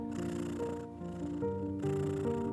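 A cat purrs in a steady close rumble with soft rhythmic pulses from breathing in and out, continuous and unaccompanied by voices.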